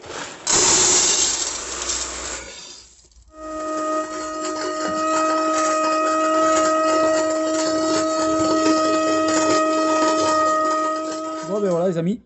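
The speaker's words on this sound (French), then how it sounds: "j'ai mis du blé et du maïs que je vais passer de suite au moulin" A grain mill grinding wheat and corn for homemade pellets, starting with a harsh rushing burst, a brief pause, then a steady loud mechanical hum with strong tonal whine that runs continuously and shifts slightly at the end.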